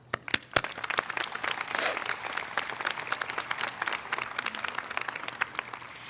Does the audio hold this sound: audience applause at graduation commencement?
yes